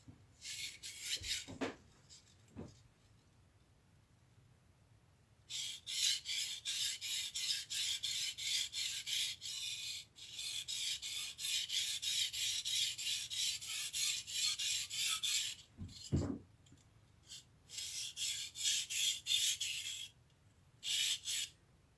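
A blade is drawn lengthwise across a sharpening stone in long grinding strokes that come in sustained raspy bursts, broken by short pauses and a few sharp clicks, with no talking.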